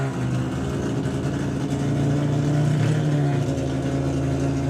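The engine of a Mazda RX-8 drag racing car at a drag strip event drones steadily and loudly, holding a constant mid-pitched tone without clear revs, with no voices over it.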